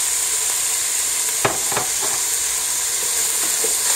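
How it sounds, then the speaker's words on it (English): Vegetables and red pepper sauté in a pan with a steady, loud sizzle and hiss, broken by a couple of brief scraping clicks from stirring; no voices. "So we'll let that saute"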